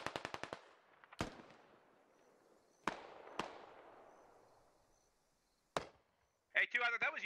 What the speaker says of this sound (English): someone's shooting at me from the fucking south